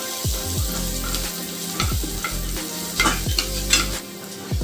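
Ginger, garlic and green chili sizzle and crackle in a hot pan while a utensil scrapes and stirs in repeated strokes, close and steady.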